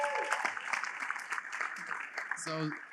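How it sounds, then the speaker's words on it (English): Applause and cheering from an audience, a dense patter of clapping with a whoop near the end, fairly close and moderately loud. "Can I get a round of applause for Aestus?"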